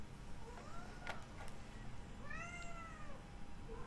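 A cat meows twice, first a softer, wavering call and then a longer, clearer one, against a constant background hiss.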